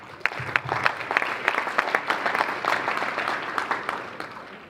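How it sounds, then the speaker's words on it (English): Round of applause from a seminar audience at a commercial real estate Q&A, with distinct sharp claps standing out from a lively, moderately loud crowd clap that gradually tapers. "Give me a round of applause."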